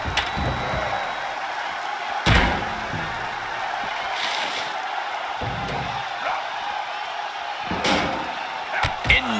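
Wrestler slammed face-first into the ringside barricade at a WWE King of the Ring match: sharp loud impacts ring out over steady arena crowd noise, with several separate thuds and crashes through the passage.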